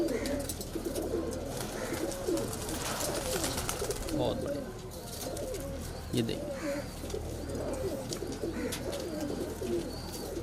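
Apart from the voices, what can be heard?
pigeon cooing, medium-sized high-flyer kalpare pigeon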